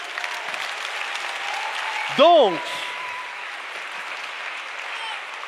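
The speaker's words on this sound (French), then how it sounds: "Vous pouvez applaudir." Applause from an evening church gathering audience, a steady, moderately loud patter of many hands throughout, with a short spoken word from a man cutting in partway.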